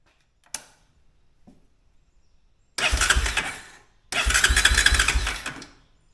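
An ATV's engine turning over after its starter has been struck with a hammer: a sharp knock, a faint tap, then two loud, rough bursts of cranking as the engine catches and runs.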